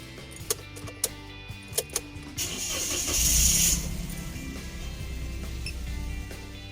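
A Toyota Wigo engine cranks over and catches after the key is turned, with a few sharp clicks first, then a swelling start-up roar that settles into a steady idle nearby.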